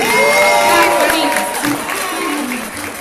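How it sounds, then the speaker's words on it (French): A wedding crowd bursts into loud applause mixed with cheers and whoops, close and energetic, with voices shouting over the clapping throughout. "Si vous êtes d'accord avec moi, applaudissez."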